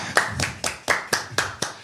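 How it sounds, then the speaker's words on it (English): Passengers clap in steady rhythm as a plane lands in Puerto Rico, about eight sharp, close hand claps spaced roughly a quarter second apart, with no voices. "when we land, we clap, baby"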